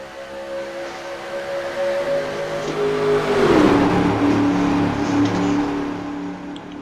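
A pack of NASCAR stock cars in the NASCAR Racing 2003 simulation at Daytona roaring off the start, several engines revving hard and rising in pitch as the field sweeps past, loud and continuous with a swelling pass around the middle.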